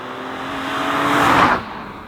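A BMW M3 engine revs up while driving, building to a loud peak and then quickly dropping away. No one speaks over it.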